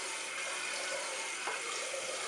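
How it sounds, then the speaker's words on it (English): Fresh tap water runs steadily into a fishbowl as the gravel is stirred and cleaned, a continuous close splashing trickle with no break. "I'll put my hand in there with fresh water running in there and move the gravel around"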